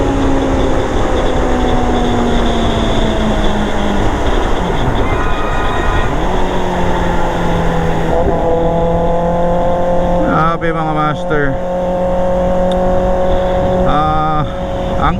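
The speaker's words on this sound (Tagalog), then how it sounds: "Ang ingay talaga ng ZX6R, no?" A Kawasaki ZX6R sport bike fitted with an SC Project exhaust revs loudly up and down in repeated rising and falling sweeps, a voice briefly heard over the engine.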